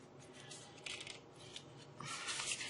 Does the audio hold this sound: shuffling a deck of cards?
yes